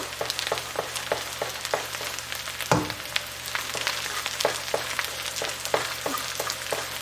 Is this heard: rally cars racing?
no